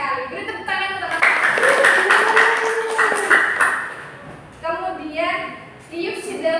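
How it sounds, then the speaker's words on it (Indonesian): A classroom of students gives a short burst of clapping for a classmate, with a teacher's voice speaking before and after the applause. "Beri tepuk tangan untuk Mas."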